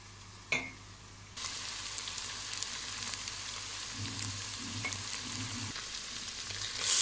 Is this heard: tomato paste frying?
yes